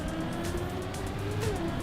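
Car engine droning steadily in the Trackmania racing video game, a continuous loud whine with a rising and falling pitch as the car turns, with faint tire squeal near the end.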